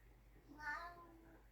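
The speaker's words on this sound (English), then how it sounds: "I don't know why my cat always decides to talk to me when I'm talking to you guys." A house cat gives a single short meow, close by and quiet, standing out briefly over a low background hum.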